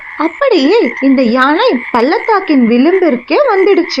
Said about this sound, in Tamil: இந்த பக்கம்தான் ஒரு தவளையின் குரல் கேக்குது.